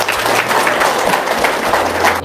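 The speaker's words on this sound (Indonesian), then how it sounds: "Tepuk tangan dulu dong" A seated audience at an Indonesian talk gives a brief, dense burst of applause. The clapping stays steady and fairly loud throughout, with no speech on top.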